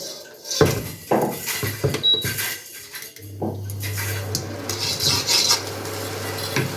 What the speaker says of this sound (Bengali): দেখুন কড়াইটা বসিয়ে দেব।